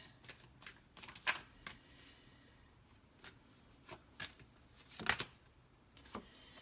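Tarot-style fortune reading cards being shuffled by hand: a run of quick papery riffles and soft flicks at close range, irregular bursts with short pauses between them, no voices.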